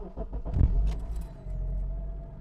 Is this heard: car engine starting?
yes